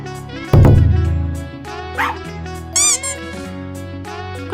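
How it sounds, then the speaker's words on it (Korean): Puppies in an anime scene give a loud yelp near the start, followed by several short, higher yips and whines set over a musical soundtrack. "그렇게 직원의 게임에 넘어간 신이 신나게 강아지들과 교감을 하던 그때"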